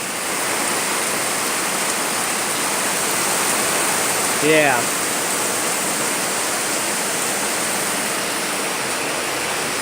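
Very heavy rain and wind roar as a steady, dense wash of noise throughout, with a brief spoken word breaking in around the middle.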